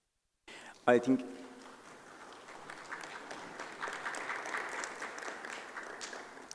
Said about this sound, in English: they really deserve a great applause from the House